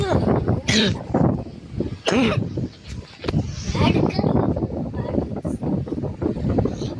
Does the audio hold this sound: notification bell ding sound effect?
no